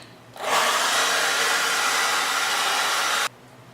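A hot air tool heating vinyl wrap on a car interior trim piece: a steady, close, loud blowing whoosh lasting about three seconds, alone, then cutting off.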